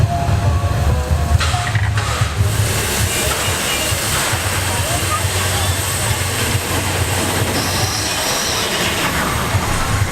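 A steam train at the Thirlmere Festival of Steam rumbles through heavy rain, a continuous loud low roar of rail noise mixed with the hiss of downpour, with brief sharper bursts near the start.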